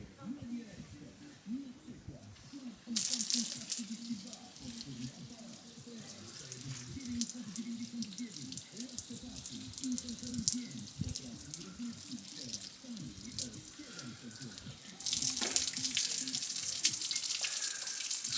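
Water from an outdoor lakeside shower fed by a barrel runs and splashes steadily, swelling louder at two points, while people talk over it throughout.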